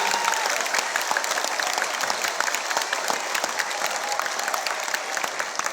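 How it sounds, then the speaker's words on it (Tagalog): A crowd in Manila applauds loudly and continuously for the city's drivers at an outdoor tool kit donation event, a dense, sustained roar of clapping with no break. "Palakpakan natin ang pinakamalakas yung palakpak para sa mga driver ng Maynila"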